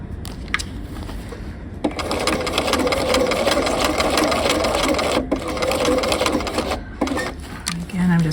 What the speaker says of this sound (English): I'm just sewing right on the edge of my canvas, all the way around